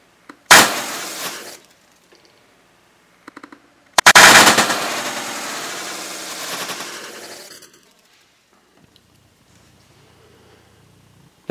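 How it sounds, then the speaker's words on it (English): A COBRA Talon Igniter Clip firing: a sharp, loud crack opening a short crackling burst, then after a pause a second loud report that trails into a long hissing, sputtering burn lasting several seconds before fading out. "we're going to fire our Talon Igniter Clip"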